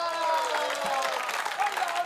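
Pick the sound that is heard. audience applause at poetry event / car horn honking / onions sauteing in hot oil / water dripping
audience applause at poetry event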